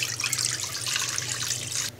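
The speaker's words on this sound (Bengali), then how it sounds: "এবার একটি কড়াইতে আমি পরিমাণ মতো পানি দিয়ে দিব।" Water poured steadily into a karai wok, a continuous splashing stream that stops abruptly near the end, heard close and alone.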